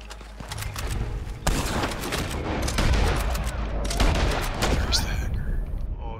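Rapid gunfire in an online multiplayer shooter plays continuously, with dense bursts and booming shots stacked over each other and players talking in between.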